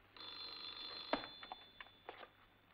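A telephone rings indoors with a steady electronic tone overlaid by a few sharp clicks and knocks, fairly faint and with no voices.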